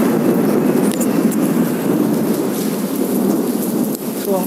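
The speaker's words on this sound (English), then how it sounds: "It's raining here, so forgive me." Steady heavy rain pours onto surfaces outdoors while thunder rumbles low underneath, a loud continuous wash close by with no break.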